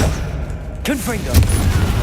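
A fiery Confringo spell explodes in Hogwarts Legacy with a sharp, crackling burst near the middle and a second thump soon after. A voice speaks over dense, rumbling game noise.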